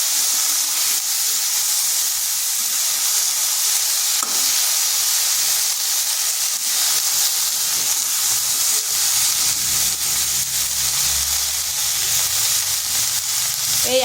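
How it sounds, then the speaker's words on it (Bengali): Steamed cauliflower florets with a little turmeric fry in hot oil, giving a steady broadband sizzle and hiss that holds through the whole stretch with faint stirring scrapes and no talk. "ফুলকপিগুলোকে একটু ভেজে নিচ্ছি।"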